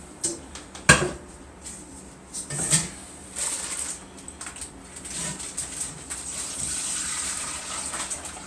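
Liquid from thawed golden chanterelle mushrooms is poured into a pan, making soft, uneven splashes and trickles with a few sharper spatters, fairly close and without speech.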